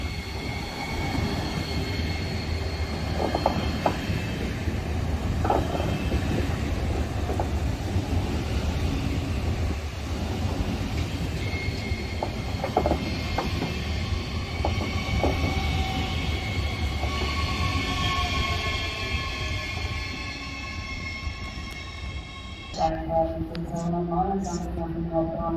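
A train moves through Dortmund main station with steady rail rumble, scattered clanks and a rising squeal, then comes to a quieter halt with a platform announcement chime near the end; a voice speaks over the station noise.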